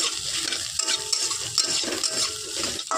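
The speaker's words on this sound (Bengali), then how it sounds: "এটাকে নাড়তে হবে" Soybeans stirred with browned onions in a pan, a spoon scraping and clattering against the metal in quick, uneven strokes over a soft sizzle, close and alone.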